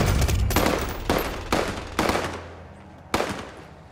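Bursts of automatic gunfire in Call of Duty Warzone on the Caldera map, several loud close volleys at irregular intervals, each ending in a short decaying tail, with a quieter stretch between the later shots.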